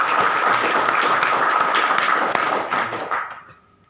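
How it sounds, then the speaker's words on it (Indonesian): An audience applauds a company at an Indonesian stem cell supplement presentation, a loud dense burst of clapping that holds steady, then thins and fades out near the end. "Beri tepuk tangan dong untuk perusahaan."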